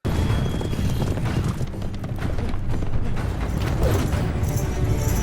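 Horses gallop in a Game of Thrones scene: dense, continuous hoofbeats over a heavy rumbling background that stays loud from start to finish.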